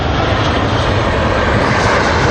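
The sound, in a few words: airplane flying overhead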